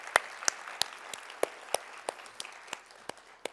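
About a dozen sharp, evenly spaced claps ring out at the Nightingale Awards for Nursing Excellence, fairly close and quiet, over a faint wash of scattered applause.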